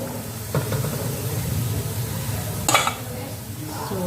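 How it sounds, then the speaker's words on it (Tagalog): Potatoes and carrots sizzle in a hot pan with a steady frying hiss, broken by a couple of clattering stirs against the pan. "buksan ko na ang kalan dahil i-fry ko na ang patatas at saka carrots"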